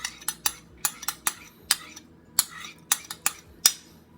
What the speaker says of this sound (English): We're going to stir all these ingredients together until they're well combined, until it resembles wet sand.